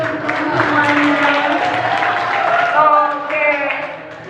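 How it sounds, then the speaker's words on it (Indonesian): An audience of students at a health education session in an Islamic boarding school claps steadily for several seconds, with crowd voices mixed into the applause. "Tepuk tangan dulu dong semuanya."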